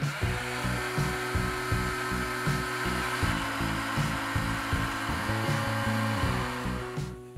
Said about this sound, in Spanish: aplicamos calor para reactivar el adhesivo